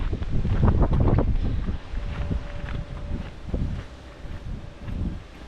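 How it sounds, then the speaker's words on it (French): Strong wind on the Pic de Nore buffets the microphone in heavy low gusts, rising and easing in waves, loudest at the start. "Il y a un vent de tordu."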